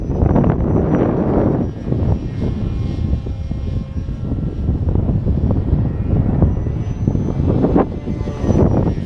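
FT22 RC airplane motor at full throttle in a snowstorm, a loud continuous buzzing drone mixed with heavy wind buffeting on the microphone, close and sustained throughout with no speech.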